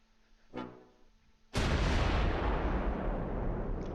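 Gunfire in the World War II strategy game Close Combat IV: a short muffled report, then after a brief pause a sudden loud blast that tails off into a long rumbling roar.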